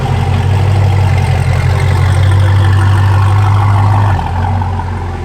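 A supercharged C8 Corvette engine idles loud and close, a steady low rumble that holds evenly for about four seconds before dropping slightly in level, with no talking.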